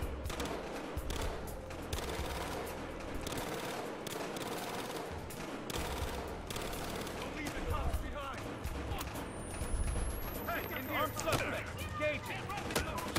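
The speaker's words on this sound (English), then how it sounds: "they're already exchanging gunfire" Gunfire exchanged in the video game Battlefield Hardline: dense, continuous bursts of automatic weapon fire and scattered shots, loud and sustained throughout, with a busy combat mix underneath.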